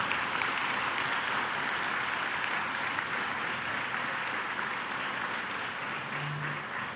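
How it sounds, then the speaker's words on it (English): A banquet audience gives the serving staff a steady, even round of applause that holds at moderate level throughout, a dense wash of many hands with no talk over it. "let's give a round of applause to the staff for serving us so wonderfully."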